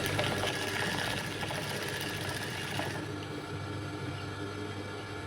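Sewing machine running steadily as it stitches back and forth across a torn patch of cloth, a continuous close mechanical whir that lightens slightly partway through, with no talking.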